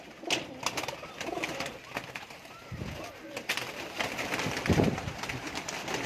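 Lakha pigeons in a village loft near Nankana Sahib coo in low, soft repeated bursts, with a couple of fuller coos standing out over a busy background of rustling and other birds.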